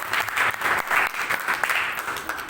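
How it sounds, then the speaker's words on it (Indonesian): An audience in a classroom-style gathering bursts into loud, dense applause that holds steady for a couple of seconds with rapid overlapping claps. "Tepuk tangan semua."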